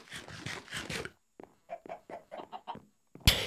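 Minecraft chickens cluck in the video game: a quick run of four loud clucks, a short pause, then a series of six or seven softer clucks, ending in a sharp click.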